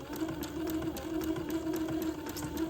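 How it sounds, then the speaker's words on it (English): A sewing machine zigzag-stitches the headers of two pieces of lace together, running in a steady, continuous whir with a rapid even needle pulse, close and clear with no talk. "I'm going to start to zigzag these 2 pieces of lace together"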